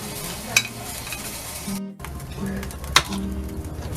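Chilli bajji fry in hot oil in a kadai on a gas stove, giving a steady close sizzle with a couple of brief clinks.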